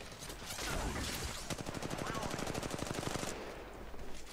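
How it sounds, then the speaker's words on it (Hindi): Gunfire from the Wingman in Apex Legends Mobile during a team deathmatch: a loud, rapid burst of shots in quick succession for about two seconds, followed by a brief lull and a final shot. "विंगमैन चला रहा था वो"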